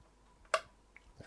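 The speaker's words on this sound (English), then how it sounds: "There's the click." A single sharp click from a screw seating on a Thermalright AM5 secure frame CPU mounting bracket, close and brief in a quiet room, followed by a couple of faint small ticks.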